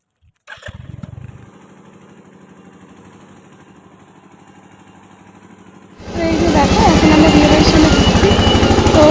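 A motorcycle ridden to a wedding reception starts up and idles with a steady low thrum. About two-thirds of the way through it turns into a much louder rush of engine and wind as the bike gets under way.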